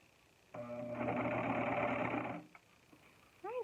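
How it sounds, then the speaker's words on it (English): A serger overlock machine runs one steady, loud burst of about two seconds while stitching a side seam on an upcycled tee shirt romper, then stops. A brief voice follows. "And so I'm going to continue with my serge."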